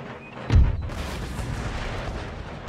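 Gunfire in an Empire Total War battle: a single heavy boom near the start, followed by a low rumbling tail of distant battle noise, no voices over it.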